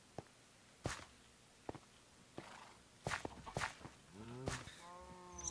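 Camels in Minecraft make soft, scattered footfalls and sharp thumps, closing with a low, wavering groan-like bellow, faint and intermittent in a quiet game setting.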